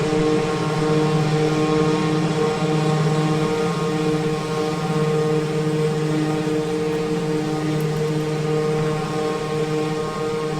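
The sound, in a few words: Piaggio P180 Avanti propeller aircraft in a flight simulator video game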